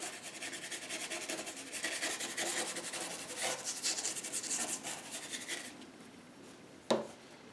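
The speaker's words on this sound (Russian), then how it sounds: "Беру кисть и растушевываю." A paintbrush blends paint across paper for a sea-sunset painting, making a steady, soft rubbing and rasping of repeated close strokes, then a single sharp tap near the end.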